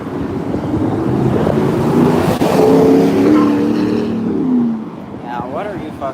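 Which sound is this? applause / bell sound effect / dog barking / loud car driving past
loud car driving past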